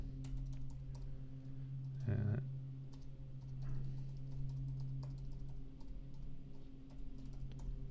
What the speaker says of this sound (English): And so I'll just type in support.